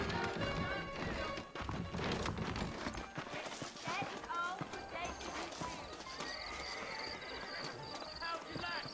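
Horses' hooves clip-clop in the Red Dead Redemption video game, with whinnies and neighs, thumps and clatter amid busy game sound, while voices talk throughout.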